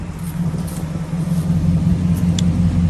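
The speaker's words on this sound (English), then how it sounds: "y'all can hear it's quiet. Like, it's a very, very, very quiet car." A Chevrolet Impala SS clone idles smoothly, its low, steady engine rumble close by and even, with a faint rise in loudness toward the end and no talking.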